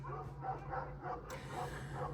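Several dogs yip and bark in quick, rhythmic bursts at middling distance, steady over a low background hum, with no voices in between.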